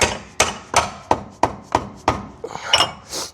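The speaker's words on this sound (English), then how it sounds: "Hammer it on, and we'll finish it on the floor." Sharp, regular knocks of a hammer striking metal as a wire wheel is hammered onto the hub of a Ford Ranger, about seven blows in steady rhythm, close and fairly loud, ending with a few scraping sounds.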